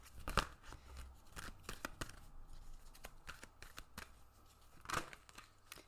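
Tarot cards are shuffled and drawn by hand: quiet, irregular papery snaps and flicks, a couple of louder slaps near the start and end, otherwise soft and close with no talking.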